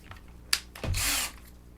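A handheld drill fitted with a domestic drill bit bores into a Star Wars DL-44 blaster replica build: one sharp click, then a short, loud whirring spin of under half a second, close up, with no talking.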